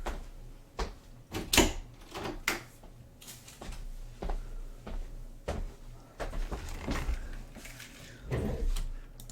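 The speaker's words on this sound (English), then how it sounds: "I'm gonna pop the door open for her." A door in a home workshop is opened to let a cat out, giving several knocks, clunks and handle rattles at close range over a few seconds, with no talking.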